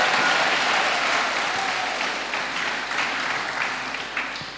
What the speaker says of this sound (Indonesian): Tepuk tangan dulu teman-teman kaum muda.